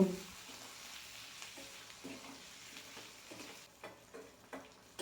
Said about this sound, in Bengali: সব কিছু একসাথে নাড়াচাড়া করে মিশিয়ে নেব